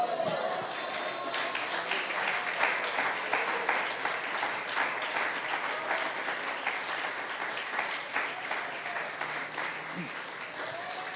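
Steady, dense applause from a church congregation during a sermon, many hands clapping continuously at even loudness throughout with faint voices mixed in.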